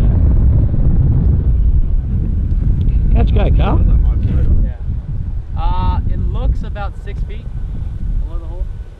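Strong wind gusts across a golf course, a heavy, close roar of wind buffeting the microphone that eases midway, with geese honking over the wind in the background.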